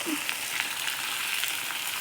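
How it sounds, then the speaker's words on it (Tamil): Steady, soft sizzling of curry leaves frying in hot oil, a constant crackly hiss with faint light pops, no voices. "இப்போ தாளிக்கும் போது அப்படியே கருவேப்பிலை போட்டு நல்லா வதக்கிக்கலாம்"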